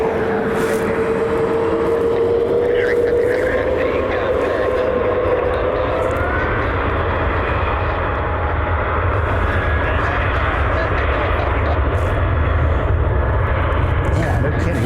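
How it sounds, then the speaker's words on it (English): A Frontier airliner departs from Cleveland's airport, its engines making a loud, steady roar that swells slightly as a faint whine rises and fades over it throughout. "Frontier has just got their takeoff clearance."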